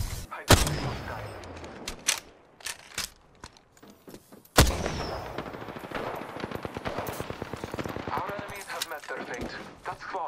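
Apex Legends gunfire: a few scattered loud single shots early, then a heavy blast followed by a long rapid automatic burst of evenly spaced shots, close and loud, with speech partly over it.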